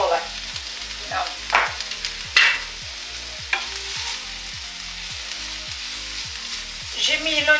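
Onions frying in a pan for a chorizo pizza, giving a soft steady sizzle with occasional stirring scrapes and louder spatters, close by and with no talking.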